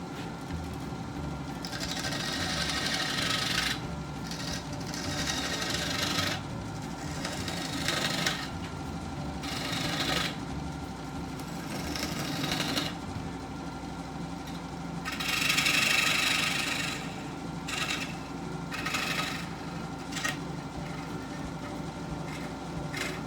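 A wood piece held on a woodworm screw is cut on a lathe or similar power tool in repeated bursts of loud hissing cuts over a constant motor hum, each pass separated by brief pauses.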